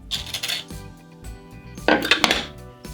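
Ginger root scraped on a very hard sharkskin grater, giving rough, rasping scrapes in short bursts with a louder stretch near the end, recorded close up.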